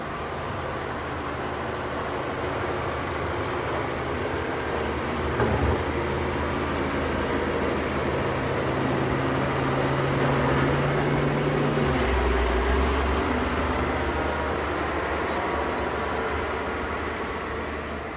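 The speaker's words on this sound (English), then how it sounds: "Here comes the grader." A road grader rumbles past on a neighborhood road, a long steady low engine drone with a mechanical hum that swells toward the middle and then fades, with no voices.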